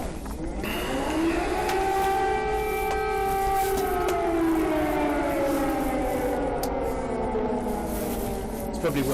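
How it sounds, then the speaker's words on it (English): A loud wailing civil defense siren in Ukraine during the Russian invasion holds a steady drone, its pitch slowly falling and rising, continuous and dominant throughout. "the sirens are like a regular thing now"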